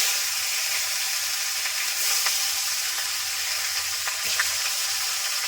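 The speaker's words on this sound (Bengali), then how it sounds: "মাথার এক পিস মাছ রয়েছে এগুলো ভেজে নেব" Pieces of rita fish, including a head piece, sizzle in hot oil in a pan, a steady close hiss with occasional faint pops and crackles throughout.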